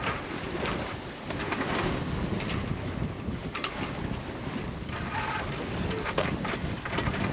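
A sailboat glides over calm water off the Algarve coast of Portugal, heard as a continuous rushing of wind and water hiss with faint lapping, steady and moderately quiet throughout.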